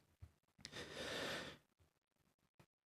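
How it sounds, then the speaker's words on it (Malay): A single long, audible inhalation drawn in steadily over about a second during Quran recitation practice, close and soft, preceded and followed by small breathy clicks and short exhalations. "tarik nafasnya"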